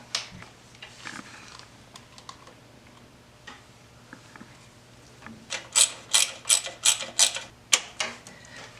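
Harley-Davidson Dyna crank sensor being bolted back in, with scattered light metallic taps followed by a close, rapid series of sharp ratchet clicks near the end, and no talking.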